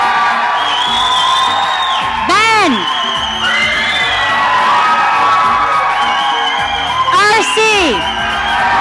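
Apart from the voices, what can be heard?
crowd cheering to vote for a favorite photographer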